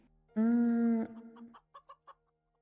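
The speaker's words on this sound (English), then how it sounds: "That's a chicken." A video-game chicken gives one long, drawn-out squawk, followed by a few short, clipped clucks spaced a beat apart. It is close and clear, with no talk over it.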